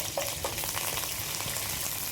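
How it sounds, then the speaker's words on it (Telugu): Cumin, garlic, curry leaves, and dried and green chillies sizzle steadily in hot oil as a tempering for Godavari-style fish fry, a dense continuous crackle with no voices. "నెక్స్ట్ తాలింపు వేసేసుకుంటాం."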